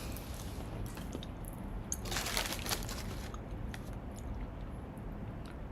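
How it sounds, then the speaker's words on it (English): Close-miked chewing: a steady run of moist, squishy crunches with a louder, denser burst in the middle, heard alone without talk. "The chewing sound."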